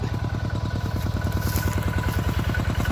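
A single-cylinder walk-behind tractor engine pumps water into a rice paddy, chugging in a fast, steady, evenly spaced thump close by with a metallic clatter on top, no talking.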